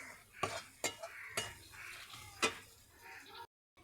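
Spice masala being stirred and fried in a pan for a Bengali patol chingri (pointed gourd and prawn) dish, with several sharp spoon scrapes and clanks against the pan over a soft sizzle.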